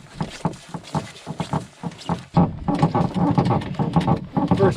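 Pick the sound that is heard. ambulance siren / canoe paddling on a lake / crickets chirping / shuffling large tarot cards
canoe paddling on a lake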